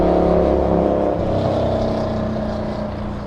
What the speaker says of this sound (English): Some more motorcycles down below us on Imperial Highway, passing really loud.